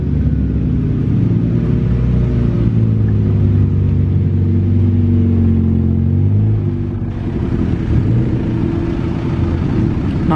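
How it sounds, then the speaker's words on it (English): A loud, close Toyota car with a large exhaust revs hard at a classic car meet, its deep, droning engine rumble rising and falling steadily with no talk over it. "Look at the size of the exhaust on that Toyota."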